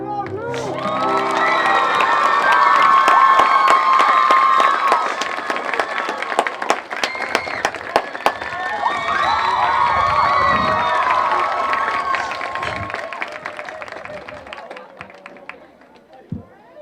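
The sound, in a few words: graduation audience cheering and applause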